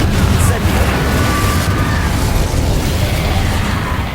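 Fire spell explosions, Confringo and Incendio, in the Hogwarts Legacy video game: a loud, continuous roaring blast with dense rumbling booms that holds steady and tapers slightly at the end.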